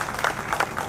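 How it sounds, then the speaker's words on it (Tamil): Crowd at a Tamil political speech applauding for a legislator, a steady wash of many hands clapping with a few louder swells, fairly distant and continuous. "இன்னும் நல்ல கைத்தட்டலாம் அவருக்கு"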